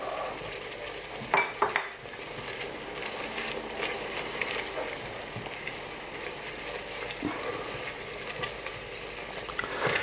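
Garlic sizzling in a pan for pasta puttanesca, a continuous close crackle with a few utensil clanks and scrapes against the pan.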